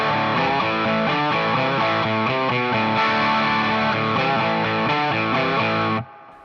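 A distorted electric guitar plays a pre-chorus variation, with rhythmic chord strums and a short descending walk-down, loud and close with no voices, stopping abruptly near the end.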